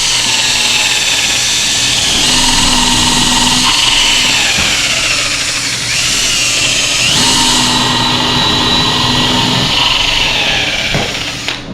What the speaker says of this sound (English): And then just drilling the hole.